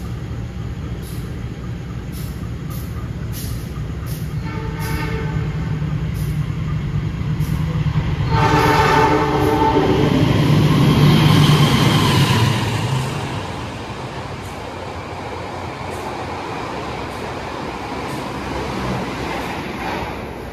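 Long-distance passenger trains bound for Bandung rumble past in a broad, steady roar that swells toward the middle and eases off, with rhythmic wheel clatter and a faint high whine, no voices.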